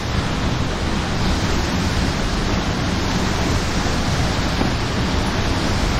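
Blue water rushes in a broad, steady roar, a dense and unbroken wash of noise that could be surf or wind over the microphone, loud and close throughout.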